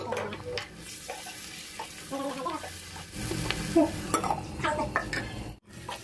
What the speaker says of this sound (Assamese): এতিয়া পেচি থৈ দিয়া আদা নহৰুখিনি দিলোঁ